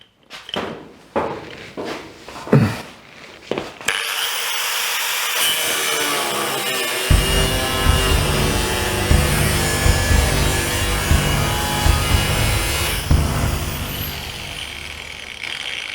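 Angle grinder cutting through the roof metal of a 1951 Chevy truck, a few short scraping strokes giving way to a loud continuous grinding whine that runs close and steady to the end.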